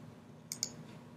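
A computer mouse gives two quick, crisp clicks in close succession while selecting a tool in Photoshop. Faint and close against a low background hiss.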